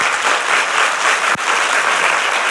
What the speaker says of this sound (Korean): 여러분의 뜨거운 박수가 저에게 다시 한번 힘이 될 것 같습니다